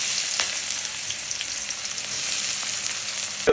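Chopped onion frying in a pan of hot oil while a pangas fish dish is cooked. A close, steady crackling sizzle runs throughout and ends with a brief clatter.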